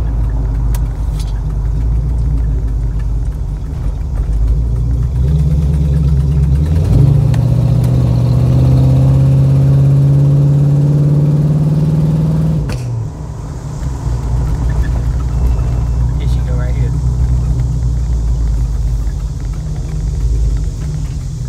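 A car engine rumbles near at idle, then revs up strongly for several seconds before dropping back to a low, steady drone as the car drives, loud and alone with no speech.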